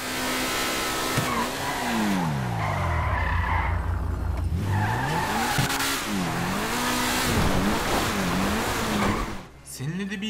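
A high-revving Pagani Zonda engine in GTA 5 whines up and down through gear shifts, with tires skidding and screeching, loud and continuous, ending abruptly.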